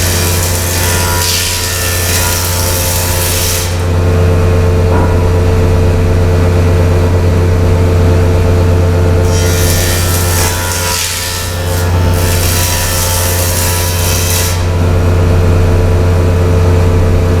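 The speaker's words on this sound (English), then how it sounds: "by running it through the planer a couple times, you'll see that that'll smooth it out" A wooden board is fed through a jointer, giving a loud motor hum with two long bursts of cutting noise as the blades plane the face, separated by the idling drone.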